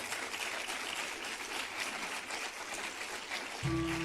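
A church congregation claps together in a sustained, dense patter of applause that fills the room, loud and even throughout, then a low hum and tone come in at the very end.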